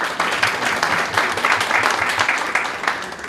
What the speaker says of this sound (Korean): 네, 인사 박수 한번 치겠습니다.